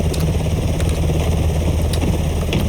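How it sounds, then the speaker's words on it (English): Helicopter in the video game Blackhawk Rescue Mission 5 flying in and setting down, a steady low rotor and engine drone that holds constant throughout, with a few faint higher clicks. "You've successfully flown a helicopter without crashing it"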